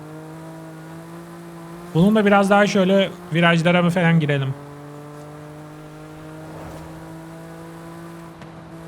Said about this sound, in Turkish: M4 ile gazlama zamanı.